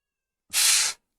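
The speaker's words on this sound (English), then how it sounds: "That goddamn cat. Oh, I hear her." A pet cat lets out a single brief meow, about half a second long, heard alone and fairly clear in an otherwise quiet room.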